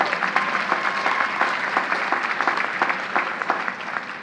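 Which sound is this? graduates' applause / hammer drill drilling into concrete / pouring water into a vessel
graduates' applause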